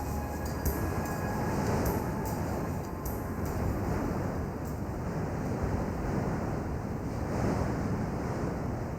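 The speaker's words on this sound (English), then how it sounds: "The wind is still blowing hard this afternoon." Hot sirocco wind gusts hard along the southern Sicilian coast, a loud continuous roar and buffeting rush that stays strong for the whole stretch, with surf-like noise mixed in and no voices.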